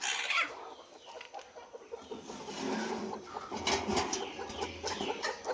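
Free-range country chickens and a rooster cluck and call on a small native-breed poultry farm, a busy overlapping chorus of clucks and squawks with no talk.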